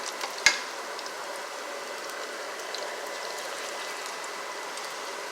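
Salmon pieces frying in a pan give a steady, moderate sizzle and crackle throughout, with one sharp clink near the start and no talking.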